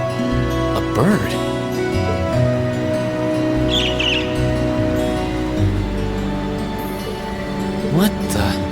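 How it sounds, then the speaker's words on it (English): In the video game Trails of Cold Steel, a strange bird on a lamppost gives a few faint, brief chirps over a steady bed of game music and ambience. "There was just a strange bird on that lamppost over there."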